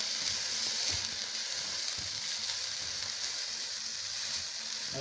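A handful of freshly washed, still-damp neem leaves dry-roast in a pan with no oil, giving a continuous close hiss and crackle that holds steady throughout.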